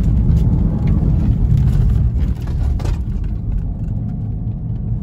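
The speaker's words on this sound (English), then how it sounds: "Traction control off, dead stop right now," An Audi A4 2.0T Quattro wagon on snow tires launches at full throttle from a dead stop on snow with traction control off, a loud, dense engine roar and rumble that dips briefly midway, then keeps pulling.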